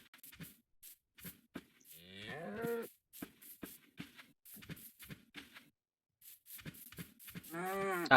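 Blocky Minecraft cows moo repeatedly in a survival game, several drawn-out lowing calls spread between bursts of short clicks and footsteps, fairly close and clear.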